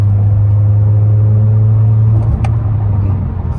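A 2018-2022 Honda Accord Sport cruising as the driver paddle-shifts up to sixth gear, heard from inside as a loud steady low engine drone that dips briefly midway, with no voices.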